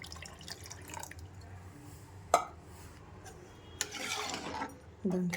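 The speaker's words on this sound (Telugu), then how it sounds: "చూడండి ఒకసారి బాగా కలుపుతున్నాను" Radish rasam with jaggery is stirred in a pot: intermittent wet swishing and liquid sloshing with a sharp clink of the spoon against the pot partway through, then a louder stirring swirl near the end.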